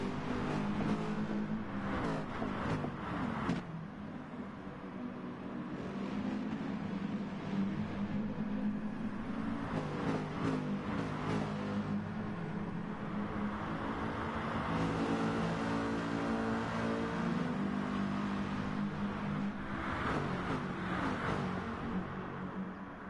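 Race cars in Gran Turismo Sport accelerate from a rolling start at Mount Panorama, their engines rising and shifting in repeated revving waves, loud and close, with a faint commentary voice.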